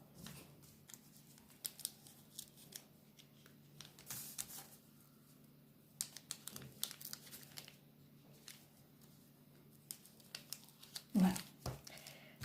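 Scissors cut fabric for a homemade face mask, giving faint, scattered snips with soft rustling of cloth and a louder crinkle near the end, all quiet and close.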